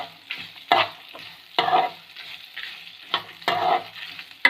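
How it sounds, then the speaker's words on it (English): Onion frying in a pan for mint and onion chutney, with rhythmic stirring strokes scraping through a steady close sizzle, about four stirs in a few seconds. "we have to fry this onion until it becomes"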